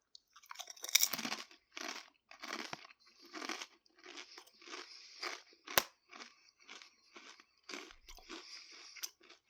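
Someone crunches Doritos Golden Sriracha tortilla chips close to the mic, with a steady run of about a dozen crisp bites and chews separated by short pauses.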